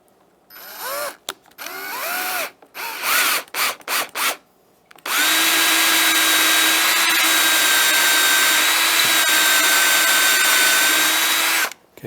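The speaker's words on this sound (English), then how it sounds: "Handy drill. Got it on low speed, 3/8 bit, block in place" A handheld power drill on low speed with a 3/8 bit, working a chair part with a block in place: several short stop-start bursts, then a long steady near whine that runs unbroken for about seven seconds before cutting off.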